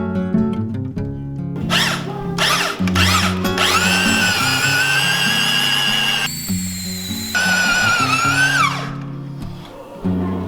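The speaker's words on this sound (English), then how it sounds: "if I can get that up far enough, I can get this drill on it." A power drill whines loudly, starting in short bursts then running steadily with changing pitch as it bores into timber on an old wooden yacht, before winding down.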